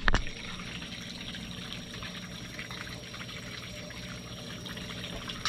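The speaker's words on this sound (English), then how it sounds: "you can kind of see what I'm talking about with that Venturi and the bubbles that it spits up" Water gurgles and trickles steadily from a venturi plug in a bait tank, a soft continuous bubbling and splashing close by with little variation.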